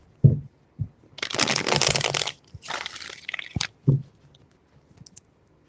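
A tarot card deck is handled and shuffled by hand: a few soft taps, then two long papery riffling bursts of about a second each, followed by scattered card thumps and faint rustles, close and without talk.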